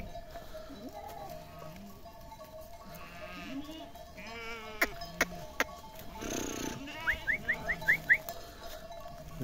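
Sheep in a farm enclosure bleat repeatedly, with several calls at varying pitch, some close and loud, alongside rustling, a brief clattering burst and a quick run of sharp chirps.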